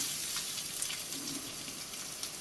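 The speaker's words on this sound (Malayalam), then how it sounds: "ഇനി ഇതിലേക്ക് നമുക്ക് ഒരു സവാള ചെറുതായിട്ട് കട്ട് ചെയ്ത് വെച്ചത് ചേർത്ത് കൊടുക്കാം" Finely chopped onion sizzles in a frying pan for chicken manthi, a soft, steady crackle heard close up and alone, fairly quiet throughout.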